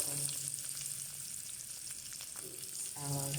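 Food sautéing in butter in a pan, a steady, fairly quiet sizzle with faint stirring, alone for most of the stretch.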